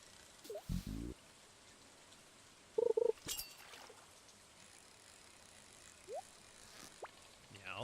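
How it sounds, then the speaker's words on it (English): Rain falls in the farming game Stardew Valley as a steady, soft hiss that runs the whole time, with a few brief game chimes and clicks popping up over it. "You finally give me a rainy day on the last day of the season."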